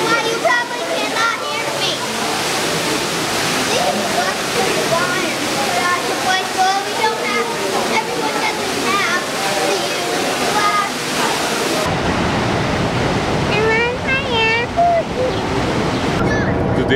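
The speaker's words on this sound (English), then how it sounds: "There's a waterfall right over there" A waterfall roars as a loud, steady rush that fills the whole scene, with people talking over it continuously.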